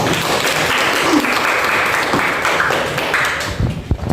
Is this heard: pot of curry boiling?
no